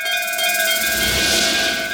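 A bell rings in an animated Hindi cartoon, giving a sustained, ringing metallic tone that hangs steadily for a couple of seconds with no speech over it.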